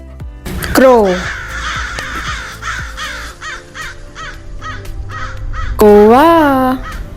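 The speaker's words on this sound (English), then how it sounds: "Crow." A crow caws repeatedly in harsh, rasping bursts. A loud opening call is followed by a run of shorter caws, then a long, strained final caw, all close and prominent.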